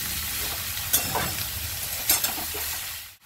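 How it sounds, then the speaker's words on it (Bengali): Mutton mince hits a hot pan with a close, steady sizzle and hiss, broken by a couple of brief clatters of a spoon or ingredients landing, with no voices. "এবার আমি কিমাটা দিয়ে দেব।"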